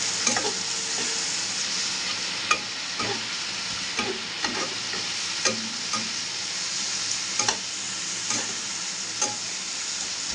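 Spice paste with ground cumin, chilli and turmeric sizzles continuously as it is stir-fried in a pan, with intermittent sharp scrapes and taps of a spatula over the steady frying hiss.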